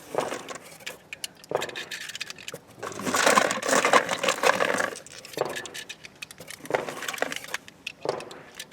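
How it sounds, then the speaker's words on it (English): Rounds of .45 ammunition are pushed one by one into a Chip McCormick 1911 magazine for a Colt Competition pistol. Close metallic clicks and scraping come in irregular bursts, with a longer rattling stretch in the middle and no talking. "Very similar to loading the standard Colt mags that come with it."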